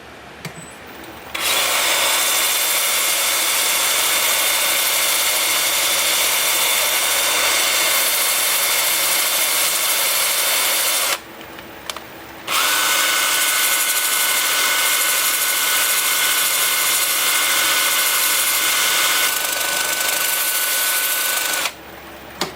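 A wood lathe spins in reverse at 370 RPM while a 2-inch sanding disc at 80 grit works the bottom of a koa bowl, a loud steady whirring hiss in two long runs broken by a short pause.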